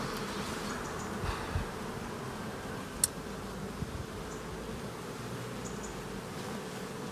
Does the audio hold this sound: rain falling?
no